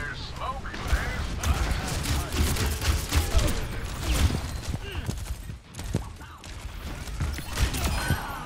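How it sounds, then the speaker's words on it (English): Rapid gunfire from the video game Overwatch 2 rattles in dense bursts of sharp shots and mechanical clatter, mixed with other game effects. "He has those stupid guns, bro. They sound like ass."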